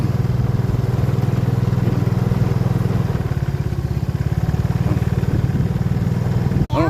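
A motorcycle rides along with a steady, loud, close engine chug that holds an even pulsing rhythm throughout and ends with a brief sharp click.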